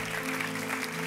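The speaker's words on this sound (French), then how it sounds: "que ceux qui le croient disent Amen et applaudissent bien fort le roi des rois" A church congregation applauding loudly after a call to praise, a dense wash of clapping over sustained music.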